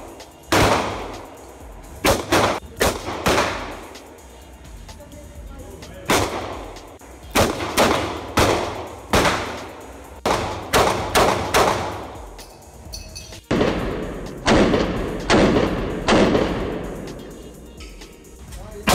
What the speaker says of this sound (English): Here's some footage of this gun in action.